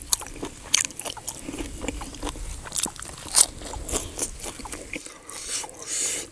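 Crispy pork belly is bitten and chewed close to the mic: loud crackly crunches and scraping chews in irregular bursts, followed by a quieter pause and a final chewing sound.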